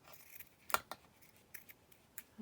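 Scissors cut paper at a cluttered desk, giving a few sharp, close snips and clicks spaced irregularly over a quiet background.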